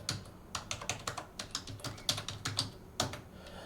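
Quick, irregular keystrokes on a computer keyboard while filling in an online scholarship form, close and fairly quiet, alone with no talk.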